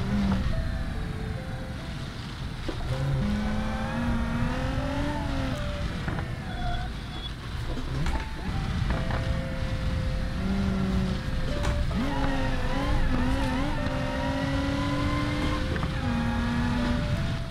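A Rocket Bunny widebody car in BeamNG climbs uphill, its engine note rising and falling through gear changes in a steady, moderately loud drone, with a voice talking faintly at times.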